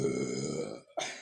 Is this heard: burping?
yes